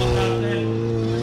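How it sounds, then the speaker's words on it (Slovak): A stand-up jet ski engine at a Slovak championship race, a loud, sustained droning whine with a steady pitch, heard close and under a voiceover. "Drsní chlapci, ostrý zvuk motora a poriadna porcia adrenalínu."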